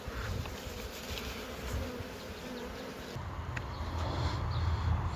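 A swarm of honey bees that has just been settled into a new hive gives off a dense, continuous buzzing hum. The sound is close and steady throughout, with no talking.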